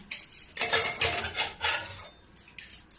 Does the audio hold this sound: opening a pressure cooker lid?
yes